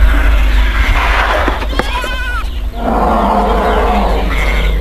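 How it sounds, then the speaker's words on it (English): A flock of sheep bleats, with one clear, wavering bleat standing out above a loud, rumbling background of other animal calls. "It prowled on a flock of sheep."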